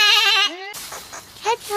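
A sheep bleats loudly and close up with a wavering, quavering cry that holds for about half a second and then breaks off. Fainter, breathy bleats follow against a quiet farmyard background.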